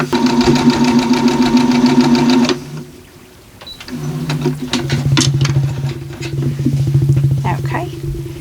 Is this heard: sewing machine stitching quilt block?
yes